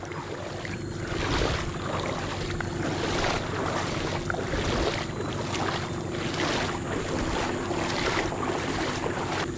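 Sea waves roll in at high tide along a shore, a steady, loud wash of surf and wind noise that fills the whole stretch without any talking.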